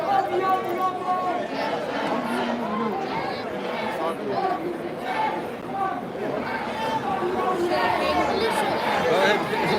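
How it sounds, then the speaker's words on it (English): Dense crowd of protesters filling a Dublin street, a continuous babble of many voices and chatter at steady loudness throughout, with nearby talk mixed into the hubbub. "Look at that crowd. Look at this crowd, man."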